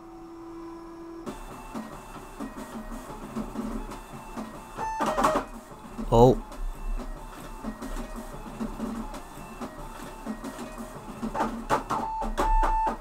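A Voron V0 3D printer whirs and rattles with rapid mechanical motion during a high-acceleration test, punctuated by harsh clunks and grinding bursts, loud and close.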